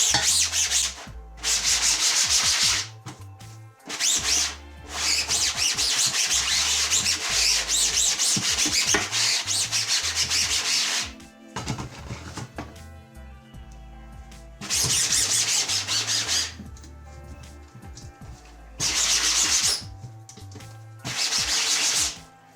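Repeated brisk brushing strokes scrubbing powder across a screen-printing screen, coming in long bursts separated by short pauses, close and fairly loud.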